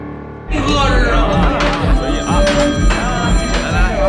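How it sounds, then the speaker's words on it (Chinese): A mobile phone plays a loud ringtone in a busy indoor scene, its melody running continuously for a few seconds with voices mixed in around it. "你电话又响了。"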